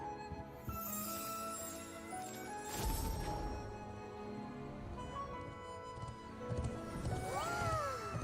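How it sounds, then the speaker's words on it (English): A horse in the video game Genshin Impact gives a few whinnies and snorts amid cutscene music and effects, with a stronger cry near the end, fairly close and clear. "Who's that horse?"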